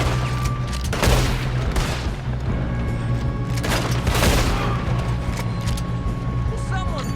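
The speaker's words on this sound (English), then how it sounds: "One of you shoot those bastards." Gunfire in a Red Dead Redemption 2 shootout, with repeated broadband bursts of shots over a steady low rumble and continuous game ambience, while voices talk throughout.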